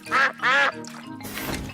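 Two loud, close cartoon duck quacks from Peppa Pig in quick succession, followed by a softer splashing, watery rustle.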